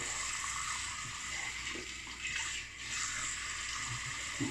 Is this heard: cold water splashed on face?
yes